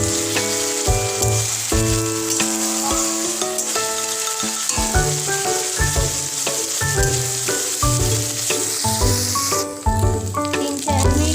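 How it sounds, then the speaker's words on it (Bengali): Spices sauté in a pan for vegetarian bhog-style khichuri, a constant close sizzle and hiss running throughout beneath melodic background music. "মশলাটা দিয়ে এবার একটু কষিয়ে নেব।"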